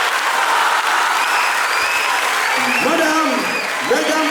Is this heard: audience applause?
yes